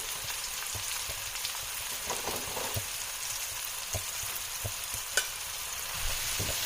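Shiitake mushrooms frying in a pan, giving a steady close sizzle with occasional light stirring clicks and scrapes, with no voices.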